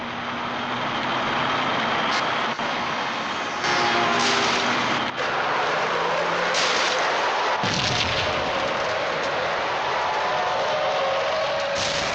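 A bomb blast in the Android mobile game Max Payne, loud and continuous, with a dense roar of rumbling debris and crackling that keeps going after a sharper burst partway through.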